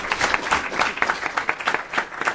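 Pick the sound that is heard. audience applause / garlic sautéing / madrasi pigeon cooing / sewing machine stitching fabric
audience applause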